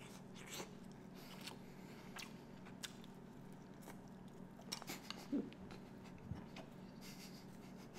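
Close-miked biting and chewing of dumplings, with soft wet squishes and occasional crisp clicks and taps at an irregular pace over a quiet background hum.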